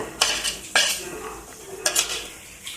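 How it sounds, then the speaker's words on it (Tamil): A spoon stirs cluster bean curry (kothavarangai kuzhambu) in a metal pot, giving several distinct clinks and scrapes against the pot at an uneven pace, close and fairly clear over a quiet background. "நல்லா கிண்டி விட்டுட்டு"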